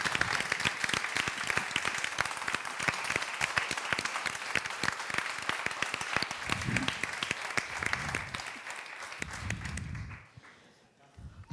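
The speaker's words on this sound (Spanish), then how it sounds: "yo creo que le tendríamos que dar un aplauso ahora mismo a Andrés" An audience at the Anaya prize ceremony gives Andrés a brisk, dense round of applause. Individual claps stand out near the microphone, a few voices come through toward the end, and the clapping drops off abruptly.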